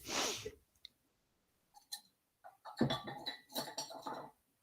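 Glass bottles clink at a bottle bank in a few sharp, separate knocks and chinks, then a busier cluster of rattling clinks, all fairly faint and nearby.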